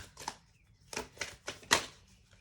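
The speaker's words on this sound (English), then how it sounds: "The cards even feel really, really stiff and really, really dense, not really wanting to shuffle too much." Stiff, dense tarot cards being shuffled, heard as four separate papery riffling bursts spaced about half a second apart, close and fairly quiet against a near-silent room.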